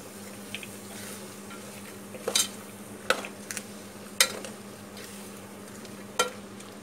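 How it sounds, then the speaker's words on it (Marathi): Mixed vegetables frying in masala for a home-style veg biryani, with a steady low sizzle and a few sharp spoon scrapes and clinks against the pot as they are stirred, close and alone. "असं एक एक वस्तू टाकून आहे ना मसाल्यामध्ये ती फ्राय करत जायची"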